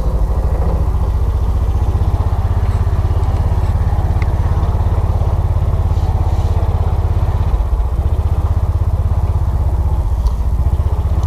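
Taylor Dunn B6-10 yard truck with a repaired flatbed hauler pulling away under throttle, its engine a steady, loud, close drone with rattling clatter throughout and no speech.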